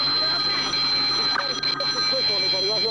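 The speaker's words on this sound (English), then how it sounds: "It's my phone." A phone rings during a police roadside encounter, a steady electronic tone running through the clip beneath nearby voices and outdoor noise.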